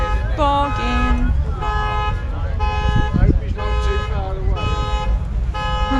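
Car alarm beeping in a repeating pattern of stacked tonal bursts with short rising sweeps, steady and fairly loud at a classic car show, with people talking over it throughout.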